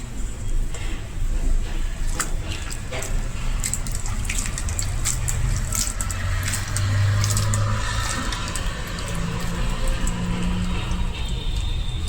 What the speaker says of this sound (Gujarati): હજુ એકવાર પાણીમાં નાખીને ધોઈ લેશું